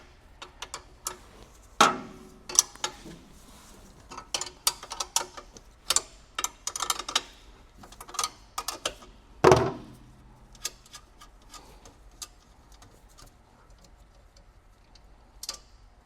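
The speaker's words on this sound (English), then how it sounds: "This is where you'll want a ratcheting wrench" A ratcheting wrench turning bolts on a Bad Boy 40 Series compact tractor during a rear remote hydraulics install, heard as close, irregular bursts of quick metallic clicks with short pauses and a couple of heavier knocks.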